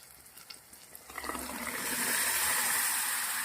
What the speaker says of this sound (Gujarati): તો હવે આપણે જે ગ્રેવી બનાવેલી છે એ અંદર રેડી દેવાની છે.